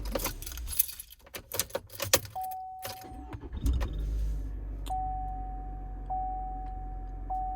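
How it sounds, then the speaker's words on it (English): Keys jangle in rapid bursts while a 2019+ Chevrolet Silverado is switched off. A low hum fades beneath, and several thin electronic chimes ring out at intervals afterward, all heard close inside the cab. "I'm gonna turn the truck off one more time."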